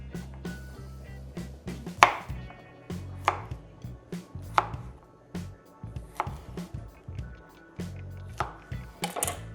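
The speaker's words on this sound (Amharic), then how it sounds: "ሽንኩርት ባለበት የሚሆነው ካስፈለገም እሱ እንዲቀላችሁ ሁለት ቦታ እንደዚህ ቆረጥ ማድረግ እንችላለን።" A knife chops through an onion on a cutting board, giving a series of sharp, irregular taps close up with short pauses between cuts, and no talk.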